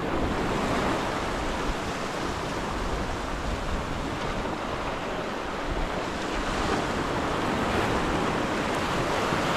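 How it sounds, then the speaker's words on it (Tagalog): Loud, continuous roar of large ocean waves breaking at a shore fishing spot, with wind rumbling against the microphone, the surf surging steadily without pause. "Laki lang kasi ng alon."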